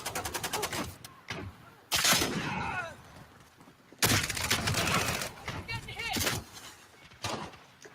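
Gunfire in an online shooter game, bursts of rapid automatic shots in several loud clusters, sharp and close, with someone talking between and over the volleys.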